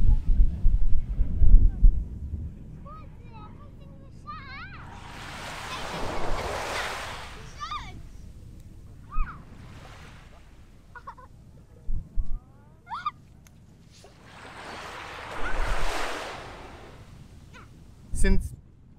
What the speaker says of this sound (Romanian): Dar uite ce valuri, deci, astea finuțe sunt.